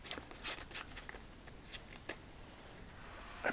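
A Pink Dragon deck of playing cards is shuffled close and quietly for a solitaire game, giving soft crisp riffles and taps scattered over a faint hiss.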